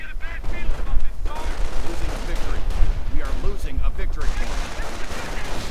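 Dense battlefield gunfire from riflemen in a World War II real-time strategy game, a steady barrage of overlapping rifle and machine-gun bursts with explosions, heard under a commentator's continuous talking.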